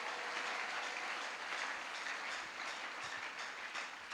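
An audience applauds steadily for a few seconds, with continuous dense clapping at an even level and no pauses.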